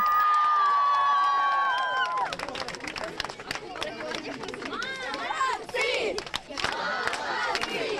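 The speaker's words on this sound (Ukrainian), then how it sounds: "Чемпіонок, як і годиться, зустрічають урочисто з вигуками, транспурантами, аплодисментами з хлібом та сіллю." A crowd at a station gives world champion dancers from a youth choreographic ensemble a festive welcome, shouting, cheering and clapping loudly with overlapping voices, following a brief tonal musical note at the start.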